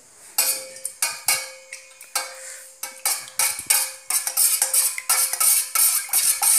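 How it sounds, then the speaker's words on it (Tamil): Lye solution and aloe vera are mixed for homemade coconut oil soap, with a spoon clicking and scraping rhythmically against a container in quick, bright strokes that grow denser and louder over time. "லையும் இந்த ஆலோவேராவும் வந்து பார்த்திங்கன்னா ஒன்றா சேர்கிற அளவுக்கு நல்லா மிக்ஸ் பண்ணிக்கணும்."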